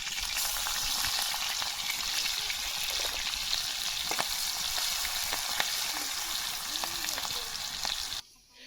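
Ginger and garlic sizzle steadily in hot oil in a pan over an outdoor forest cooking fire, a loud continuous frying hiss with occasional stirring clicks, cutting off near the end.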